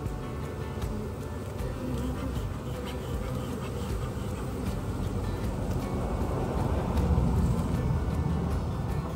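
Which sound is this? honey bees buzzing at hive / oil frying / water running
honey bees buzzing at hive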